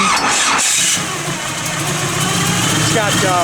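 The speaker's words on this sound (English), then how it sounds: "You can hear that Pete Jackson gear drive in there whining" A 1969 Chevrolet Nova V8 with a roller camshaft idles steadily and loudly, its Pete Jackson gear drive whining faintly above the low rumble; a brief dip in the sound comes partway through.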